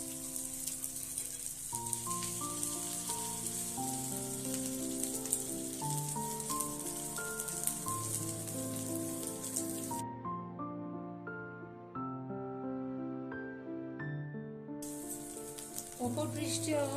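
Rice egg bites fry in oil in a pan, giving a steady hiss that cuts out for a few seconds and then returns. Gentle background music plays throughout.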